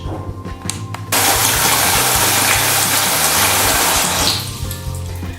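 Water pours into a basin to hand-wash delicate underwear, a loud, steady gush that begins suddenly, runs for about three seconds, then eases off to a lighter trickle.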